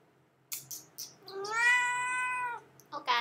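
A talkative cat meows several times close by: a few short calls, then one long drawn-out meow, followed by two more brief ones.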